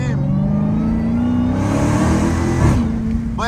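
A Dodge Hellcat SRT engine rumbles loud and close from inside the car while driving, a deep steady drone that rises slightly as it accelerates.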